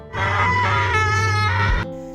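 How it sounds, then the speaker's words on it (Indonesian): A person in a Korean drama scene screams as loudly as possible, one long, loud, strained cry held for nearly two seconds before it cuts off abruptly, close and alone. "berteriak sekencang mungkin untuk meluapkan emosinya"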